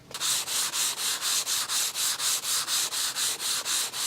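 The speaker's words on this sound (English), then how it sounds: "So I'm starting to sand off that high spot that we created with our second coat, and I am using 220 grit" Hand sanding with 220 grit sandpaper over a filled high spot on a hollow door being repaired, a close, steady rhythm of about a dozen even back-and-forth rasping strokes.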